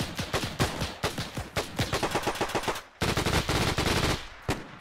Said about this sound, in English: I'm firing an MP40